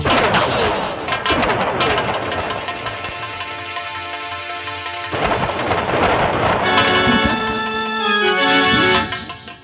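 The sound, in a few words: gunfire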